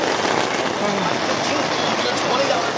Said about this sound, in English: Everybody's hiding out through the rain.